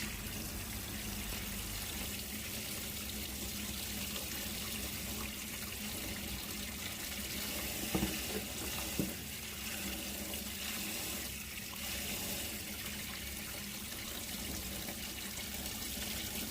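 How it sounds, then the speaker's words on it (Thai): Tap water runs steadily into a kitchen sink while vegetables are washed, a constant close splashing rush with a couple of small knocks midway and no talk. "แล้วก็เอามาล้างทำความสะอาด"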